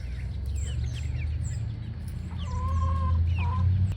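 Hens clucking inside a backyard homestead coop at night, squabbling over roosting spots as some peck at another bird; soft repeated clucks and a short squawk rise over a steady low background hum.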